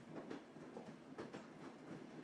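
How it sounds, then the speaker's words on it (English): A train rolls steadily along the tracks, its wheels giving a soft, even rumble with a faint rhythmic clatter, heard alone and at low level. "The train trundled on its way across the wild, open land"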